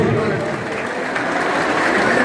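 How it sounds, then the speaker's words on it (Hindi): Audience at a Kathua celebration of India's G20 presidency applauds to welcome a Member of Parliament, a dense, loud, sustained wash of clapping from a large crowd that holds steady throughout. "एक बार फिर तालियों से इनका स्वागत करिएगा प्लीज"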